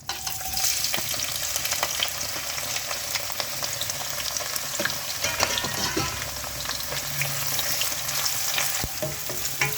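Onion with cardamom and cloves frying in oil for chicken sambal, a steady close sizzle broken by repeated scraping and clicking as the pan is stirred, with no talking.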